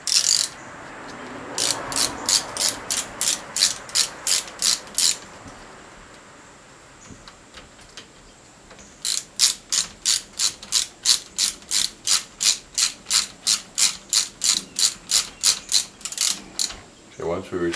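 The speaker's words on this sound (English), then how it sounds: "Using our 12mm socket." A ratchet turns a 12mm socket on a Manitou Tower Pro 29 suspension fork, giving close, crisp rapid clicking bursts in two long rhythmic runs separated by a short pause.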